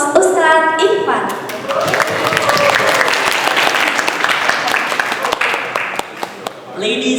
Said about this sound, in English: please join us in giving a warm round of applause as we welcome our special guest, Mr. Damian and our event host, Ustad Ikhwan